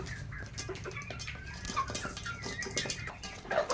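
Free-range village chickens kept on an Egyptian rooftop cluck and squawk in short, irregular bursts, close and fairly quiet.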